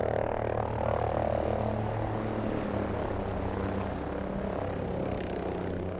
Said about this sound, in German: Oh, Sam, da kommt ein Heli.